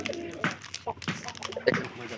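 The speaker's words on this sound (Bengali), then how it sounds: "কবুতর দেহে আগেই ধনকা পাই থাকা অবস্থা কিন্তু অনেক ডাকাডাকি করছে" Pigeons cooing in short soft bursts close by, several brief calls scattered among quiet gaps and mixed with a little nearby human talk.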